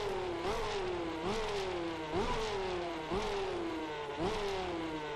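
Simulated race car engine in a racing video game, held at a steady 3,000 RPM with rhythmic pulses of revving roughly every second, loud and close with no talk.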